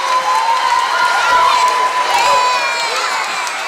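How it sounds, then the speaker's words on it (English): A school concert audience claps and cheers after a kindergarten-through-second-grade performance, a loud, steady wash of applause with children's shouts and excited crowd voices mixed in throughout. "Give them one more big round of applause."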